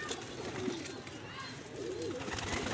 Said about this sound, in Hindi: सब कबूतर आप देखें, सारे के सारे अच्छे और ख़ूबसूरत कबूतर।